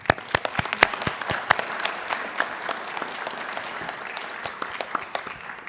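An audience applauds a veteran advocate at a high school veterans recognition event, with a smattering of distinct, sharp individual claps over a softer wash of clapping, moderately close.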